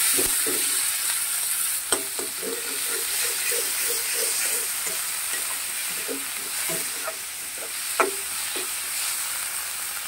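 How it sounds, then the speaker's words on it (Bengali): Pieces of ash gourd fry with garlic paste in a pan, giving a steady sizzling hiss broken by scraping stirs and a couple of sharp utensil knocks. "এটাকে আমি সুন্দর করে একটু ভাজা ভাজা করে নেব"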